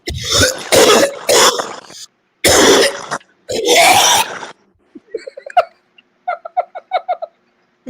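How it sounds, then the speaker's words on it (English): A played recording of coughing: several loud, harsh coughs and throat-clearing bursts in the first half, followed by quieter, rapid hiccup-like catches and short wheezy coughs trailing off. "The first coughing clip we have"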